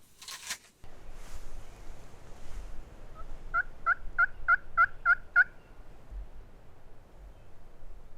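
A wild turkey gobbles in the early morning woods during a hunt, one rapid rattling gobble, fairly clear and moderately near, over quiet outdoor rustle.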